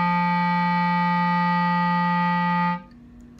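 A clarinet holds a steady low G, a single sustained note with rich even harmonics lasting nearly three seconds before stopping cleanly, heard alone and close.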